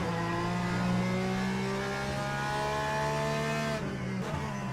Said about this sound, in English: There goes another Porsche